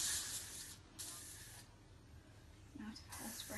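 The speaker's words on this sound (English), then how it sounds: "give it a spray to keep the neatness in whilst you're playing around." Hairspray sprayed onto a bun wig, two short faint hissing bursts from an aerosol can close by, separated by a brief pause, with soft handling sounds toward the end.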